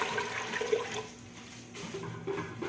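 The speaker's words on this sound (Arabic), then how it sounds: "نضيف الماء" Water pours into a cooking pot for a meat broth in a pressure cooker, a close splashing gush that swells and eases over a few seconds.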